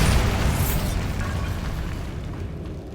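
A Bombarda spell explosion in Hogwarts Legacy, a loud, broad rumbling blast that decays slowly with crackling debris.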